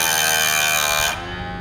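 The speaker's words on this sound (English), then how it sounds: "I'm actually gonna grind this until I get it parallel" A grinder works metal on the end of a part of a 500-horsepower motor, a loud, close, high buzzing whine that drops abruptly to a lower hum after about a second.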